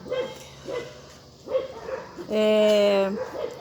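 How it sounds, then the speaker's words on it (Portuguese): Neighbourhood dogs bark in short, fairly faint yaps spaced a second or so apart, followed by a longer, louder, drawn-out howl-like cry. "cachorros que não param de fazer barulho"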